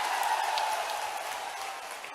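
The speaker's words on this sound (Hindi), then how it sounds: "पिछोर की ताली बजा दो एक बार" Crowd applause at an outdoor political rally in Pichhore, Shivpuri, a steady roar of clapping that slowly fades, with a faint voice tone briefly underneath.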